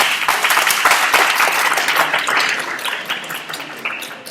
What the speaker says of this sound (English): Let's have a round of applause for Simeng.